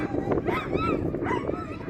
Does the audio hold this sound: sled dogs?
yes